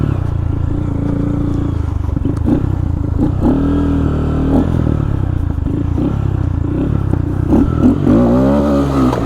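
A Honda Grom or Monkey motorcycle on Shinko Mobber 505 tires rides a dirt road in upstate New York, its small engine buzzing and shifting pitch while the rear wheel locks up and tire scraping and clatter rise briefly.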